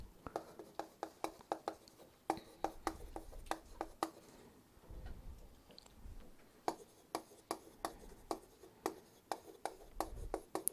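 Pen strokes on paper during a Korean accounting lecture: quiet, close scratchy taps and short strokes in irregular clusters, with faint background room noise.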